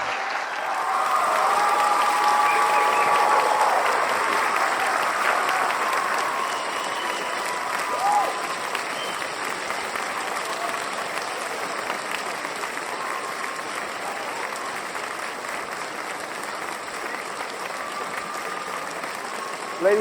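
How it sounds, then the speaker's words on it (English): An audience at a live evening talk applauds Graham Hancock, a dense, loud wave of clapping that swells early and then settles into steady sustained applause for about twenty seconds, with faint crowd murmur beneath. "A round of applause for Graham Hancock,"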